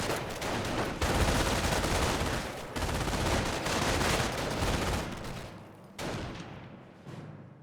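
MG42 machine gun firing in the World War II strategy game Company of Heroes, dense rattling bursts with overlapping gunfire and booms, loud and nearly continuous, pausing briefly between volleys.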